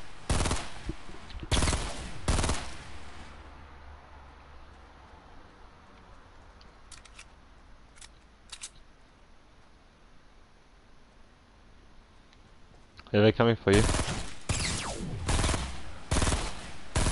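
Bursts of automatic gunfire in the Fortnite video game, loud and rapid at the start, then a quiet lull with faint distant shots, before heavy firing resumes near the end; a voice speaks briefly.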